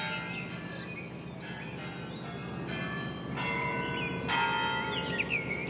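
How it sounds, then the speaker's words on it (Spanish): A church bell rings out repeatedly across a city square in Santa Cruz de Tenerife at dawn, its clear, sustained strikes ringing over a steady low background hum, with birds chirping faintly in between. "Con sonido de campana y todo."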